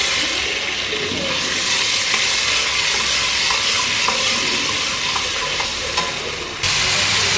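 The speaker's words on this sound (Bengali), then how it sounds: "এখানে হালকা তেলের সাথে বাটারটা দিয়ে দিয়েছি" Butter and a little oil sizzle steadily in a pan while pav bhaji cooks, a loud continuous frying hiss with faint stirring clinks throughout.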